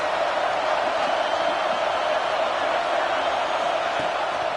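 Steady roar of a college football stadium crowd, loud and continuous throughout, a dense wash of many voices with no single call standing out.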